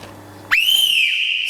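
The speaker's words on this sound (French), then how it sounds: "Sifflet et carton rouge." A single loud, sustained referee's whistle blast starts abruptly and holds steady for about a second, standing alone over a quiet background.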